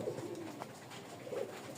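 A pigeon kept in a home loft coos softly in a couple of low, rolling phrases, faint and close in a quiet room.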